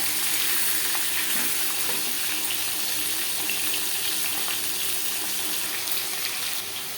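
Chala fish pieces and fish heads frying in hot oil, a steady dense sizzle with bubbling crackle holding evenly close up throughout, no voices.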